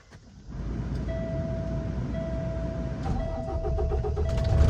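A truck's engine cranks and catches, then settles into a steady, loud idle in the cab during a Class A CDL pre-trip safe start, with the truck in neutral and a faint warning chime running underneath.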